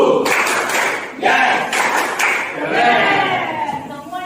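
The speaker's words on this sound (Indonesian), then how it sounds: "Tepuk semangat." Schoolchildren perform a rhythmic spirit clap in a classroom, with patterned bursts of clapping mixed with their chanting voices.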